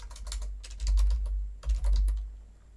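Close, crisp typing on a computer keyboard, bursts of quick key clicks separated by brief pauses, with dull thumps from the desk underneath.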